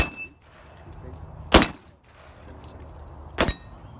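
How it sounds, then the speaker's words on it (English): Two sharp, loud AK47 rifle shots ring out about two seconds apart on a range, each a short broadband crack with a brief ringing tail against a quiet background. "Deryck, you get to shoot it since it's your fault."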